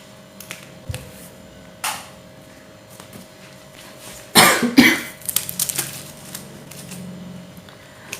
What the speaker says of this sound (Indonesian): Sorry agak batuk ini